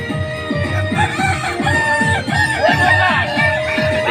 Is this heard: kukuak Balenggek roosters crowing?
yes